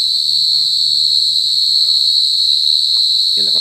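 Crickets chirping at night in the Isan countryside, a steady high insect trill held through the whole stretch, with faint low rustling and a brief closer scrape near the end.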